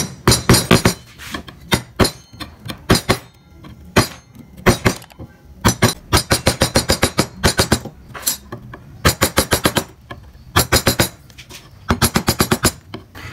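A mallet striking a fingernail-shaped carving chisel into wood, sharp close knocks in quick rhythmic bursts of several blows separated by short pauses, no voices.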